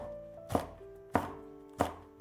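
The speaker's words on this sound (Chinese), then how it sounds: "准备几个小米辣姜，根蒂去掉，再给它切成圈。" A knife chops bird's eye chilies into rings on a board: three sharp, evenly spaced thuds, close and clear, with no voices.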